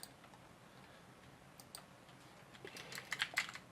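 Fingers tap on a computer keyboard, faint and close, with sparse clicks at first building into a quicker run of keystrokes near the end.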